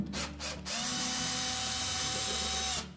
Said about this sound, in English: locate 3 screws that secure the hinge to the front panel and remove those